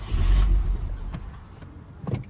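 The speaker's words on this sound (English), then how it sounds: "when I start the car the engine idle for about 3 seconds and it die out" An Infiniti G35 engine cranks and catches, giving a loud low rumble at first. Within a couple of seconds the rumble fades to a weaker idle, with a few faint clicks and knocks afterward.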